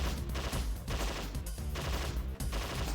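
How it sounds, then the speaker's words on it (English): Sustained automatic assault rifle fire in the arcade light-gun game Confidential Mission, a dense, loud, continuous burst of rapid shots with brief gaps and no talking. "The assault rifle."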